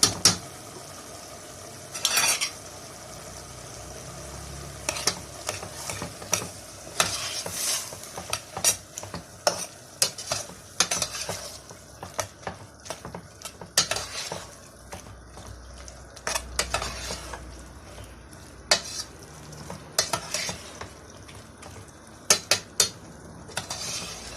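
A spoon stirs tomato paste into a meat and okra stew in a pot, with a soft simmering sizzle underneath and frequent close scrapes and clinks against the metal over a long stretch.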